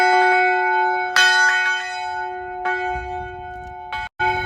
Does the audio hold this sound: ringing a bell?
yes